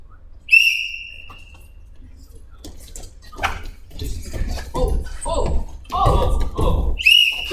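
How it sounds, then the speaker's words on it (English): A referee's whistle blasts sharply during a wrestling match, once near the start and again at the end, amid thumps on the mat and voices talking. "Blew the whistle, so what has to happen?"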